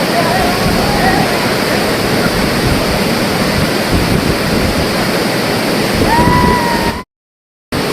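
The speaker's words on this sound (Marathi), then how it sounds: "हा समोरचा व्याघ्रेश्वर धबधबा आहे" Roaring water pours down the tall Vyaghreshwar falls at Devgad in a continuous, close, loud wash, with faint wind buffeting the microphone and a thin whistling tone near the end before an abrupt cut.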